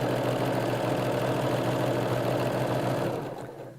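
A sewing machine stitches around a pocket in one steady, fast, rhythmic run of close mechanical chatter that winds down at the end, with no talk.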